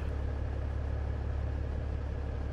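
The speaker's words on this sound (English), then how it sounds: "I'll turn the engine off just for a second" Idling heavy truck engine in Euro Truck Simulator 2, a steady low rumble that holds constant and close throughout with no voices over it.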